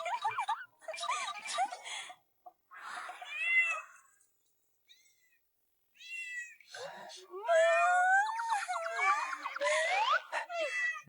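Several cats meow in repeated bursts, with high, wavering calls that overlap at times. The calls stop for a short quiet gap and then return, louder and busier toward the end.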